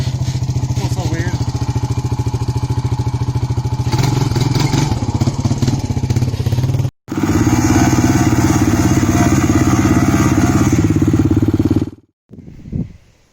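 A Honda TRX 400ex ATV engine runs loud and close with a steady rumbling idle and some revving, cuts out briefly, restarts and idles again before stopping, with a few short spoken words near the end.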